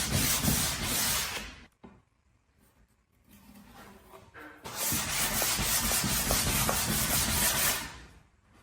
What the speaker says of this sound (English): I lightly sand the edges with 220 grit sandpaper